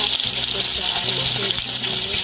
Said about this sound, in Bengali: আর এই মাছ ভাজা হচ্ছে